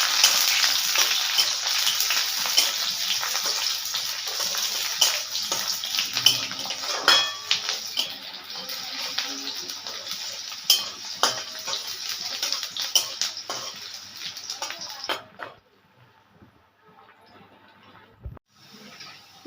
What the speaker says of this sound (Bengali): এখানে কড়াইয়ে তেল গরম হয়ে গেছে এখানে পেঁয়াজটা লালচে করে ভেজে নেব